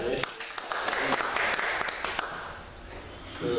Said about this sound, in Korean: 박수 치시고 하겠습니다